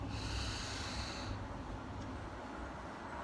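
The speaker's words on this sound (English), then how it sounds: "breathe in, breathe out." A person breathes in and out deeply, close to the microphone but quietly, with one long airy inhale-exhale cycle and a slightly snorting nasal edge.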